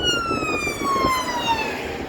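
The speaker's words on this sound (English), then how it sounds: "Sorry, ambulance, emergency services." An ambulance siren wails past on a city path near a small country park in Sheffield, its steady rising-and-falling tone dropping in pitch as it moves by, loud and clear over traffic rumble.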